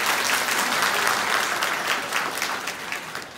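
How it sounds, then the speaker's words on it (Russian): An audience claps at a New Year 2020 stage concert, a dense burst of applause that slowly fades over a few seconds. "аплодисменты"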